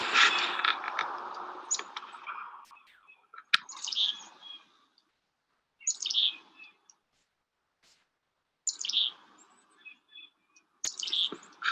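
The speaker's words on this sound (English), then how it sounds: "And as it's approached, it's going to make this sound called a beak snap. It's actually snapping its bill to let them know that it's not happy." An owl snapping its bill in irritation as it is approached, sharp dry clicks heard in several short bursts with pauses between, close and fairly loud, with no voices.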